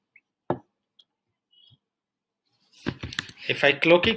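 A single short computer mouse click on a laundry service admin page, sharp and close, followed by silence and then a person talking.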